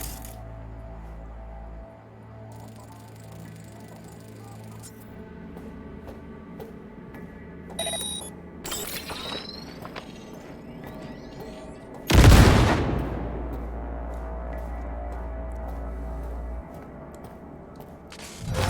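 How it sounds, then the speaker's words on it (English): Grenade detonation during Militech training in Cyberpunk-style gameplay: a single sudden loud blast near the middle with a decaying rumble, set among low background hum and scattered mechanical clicks and beeps. "Now, detonate the grenade."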